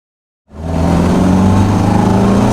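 A 1972 BMW 2002 Malaga drives down the road, its engine rising in from silence to a steady, loud, even drone with road noise, heard from inside the cabin.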